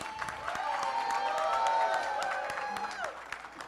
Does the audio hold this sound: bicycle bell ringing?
no